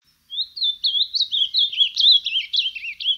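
Azulão (Cyanoloxia) song: a clear, continuous run of rapid warbling whistled notes, fairly close and alone with no talk or background noise.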